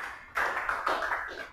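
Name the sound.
classroom applause for a pupil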